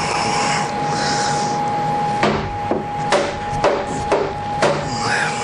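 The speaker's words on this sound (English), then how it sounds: "I gotta go grab my rubber mallet so I can break this loose" A rubber mallet strikes a wooden workpiece mounted on a CNC table five times in irregular succession, each knock a dull, close thud over a loud steady machine hum with a constant whine.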